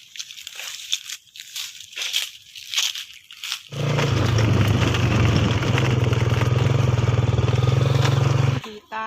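A motorcycle engine idles loud and close after some earlier rustling and footsteps, running steadily for several seconds before cutting off as the bike is parked near water.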